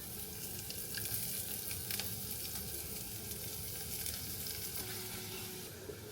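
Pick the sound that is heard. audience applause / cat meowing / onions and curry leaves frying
onions and curry leaves frying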